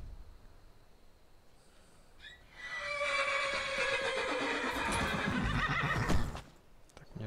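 A horse in the video game Skyrim gives a long, loud whinny that rises and trails off, preceded by quiet snorting and shuffling, with no speech.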